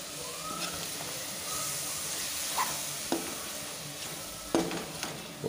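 Garam masala being stirred into a pan of frying mutton for a Tamil-style dry fry, giving a steady close sizzle broken by a few sharp scrapes and clacks of the spoon against the pan.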